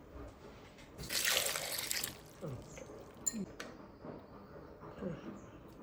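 Water poured over cut elephant foot yam in a pot, a brief splashing pour followed by soft drips and sloshing, faint and close.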